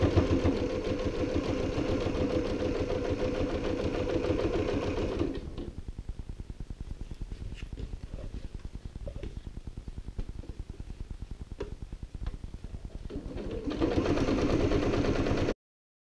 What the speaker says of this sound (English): I'm going to stitch to the end and then lift up the foot